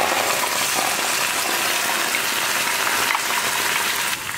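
Ground coconut paste going into a pan of onions and curry leaves fried crisp for okra pachadi, making a loud, dense, steady hiss that eases slightly at the end.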